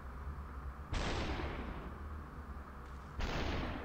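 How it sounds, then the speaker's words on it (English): Enemy gunfire in SUPERHOT, two sharp loud blasts about two seconds apart, each a bright burst with a decaying tail over a low rumbling background. "now he's shooting me"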